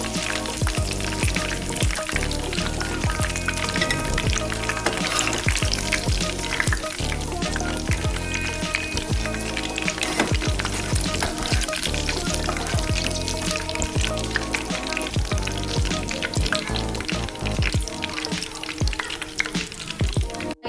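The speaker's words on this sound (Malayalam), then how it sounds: "കാശ്മീസിൻ്റെ നിറം ജസ്റ്റ് ഒന്ന് മാറുന്നത് വരെ ഒന്ന് ഫ്രൈ ചെയ്തെടുക്കാം" Cashews fry in hot oil for a Kannur-style fried chicken dum biryani, a dense, loud, continuous sizzle broken by crackling pops and occasional scrapes of a stirring utensil against the pan.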